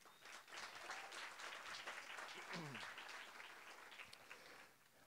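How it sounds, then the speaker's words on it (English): Realtors at an annual membership meeting applaud a group of networks being recognised, a broad steady round of clapping across a large room, faint and distant, with a few scattered voices. "Please give them a round of applause."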